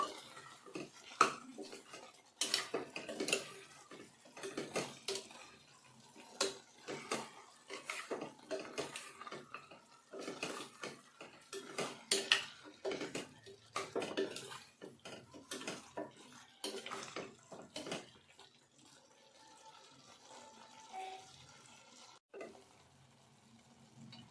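A spoon clinks and scrapes against a metal pot as mutton curry is mixed with masala and chili powder, in quiet, irregular bursts of clatter and stirring, with a softer bubbling stretch near the end.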